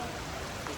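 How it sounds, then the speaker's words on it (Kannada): Heavy rain pours down in a steady, dense hiss that fills the whole short moment, with no breaks or separate drops standing out. "ಹೆವಿ ಮಳೆ ಬರ್ತೈತೆ."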